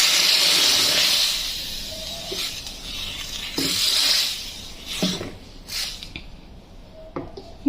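Mustard seeds sizzle in hot oil for a coconut chutney tempering, a loud steady hiss that gradually fades and breaks into scattered pops and crackles near the end.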